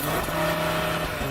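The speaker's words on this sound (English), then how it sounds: "put it into launch control mode so you can have a bit more noise" An Audi RS3 engine held at raised revs in launch control mode gives a loud, steady, close drone with a constant pitch throughout and no talking.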